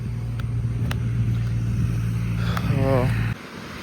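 Fast vehicles roar past on a highway beside pilgrims walking from Hyderabad to Sabarimala, a loud, continuous close traffic drone with a rising horn-like tone near the end before the noise cuts off.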